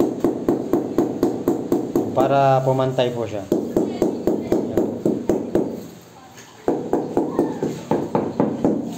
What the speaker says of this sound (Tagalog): Pinupukpok po yan ng maso na goma